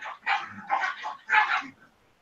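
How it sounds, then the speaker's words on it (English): Several dogs scuffle and bark at home, a run of yapping barks and growly yips in quick bursts, fairly close and without talk. "It's my dogs fighting, dude."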